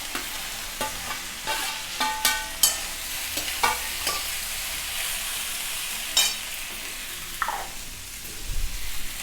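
Cut okra being stirred in a hot pan, with spoon scrapes and clinks rising over a steady frying hiss, close and fairly loud.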